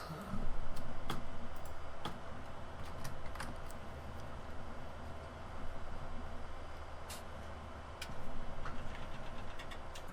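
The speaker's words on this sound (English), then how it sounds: "Just let the engine spin down a little bit." Combine harvester engine in Farming Simulator 17 idling and winding down, a steady low mechanical drone with scattered clicks and ticks over about ten seconds, no talking.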